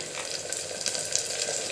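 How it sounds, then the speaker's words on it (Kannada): Chopped brinjal frying in a pressure cooker with onions and curry leaves for a masala curry, giving a steady close sizzle with bright crackling spits and soft stirring noises throughout. "ಈಗ ಬದನೆಕಾಯಿ ಹಚ್ಚಿಟ್ಟಿದ್ವಲ್ಲ ಅದನ್ನು ಹಾಕ್ಕೊತಾ ಇದ್ದೀನಿ."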